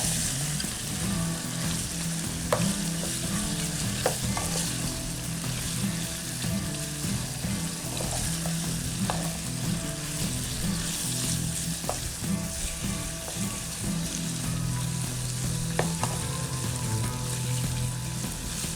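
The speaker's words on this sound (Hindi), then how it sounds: "झींगों को मैं अब कर रही हूँ फ्राई। आपने इस तरह से झींगों को फ्राई करना है गरम मसाले के अंदर" Prawns frying in garam masala for a prawn biryani: a steady, loud sizzle with occasional stirring clicks, continuous and close, with no talking.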